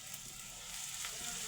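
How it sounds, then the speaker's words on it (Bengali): Chopped onions sprinkled with salt frying in oil in a pan for a boal fish dish, a steady, quiet sizzle heard close and alone. "সেখানে একটু লবণ ছিটিয়ে দিয়ে পেঁয়াজগুলো একটু ভেজে নিচ্ছি"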